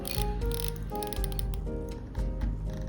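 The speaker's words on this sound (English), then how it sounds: "the bezel is 120 clicks on a directional bezel with no back play whatsoever" A 120-click directional dive-watch bezel is turned by hand, giving rapid runs of small metallic clicks, close and crisp, with short pauses between turns.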